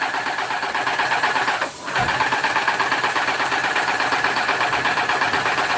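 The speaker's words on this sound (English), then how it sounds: "Sorry, guys. That's the spray." A paint sprayer driven by a loud motor coats an outdoor hot water heater enclosure in the house colour. The mechanical drone runs steadily throughout and drops out for a brief moment near the middle.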